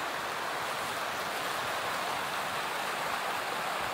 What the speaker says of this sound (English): but the river's up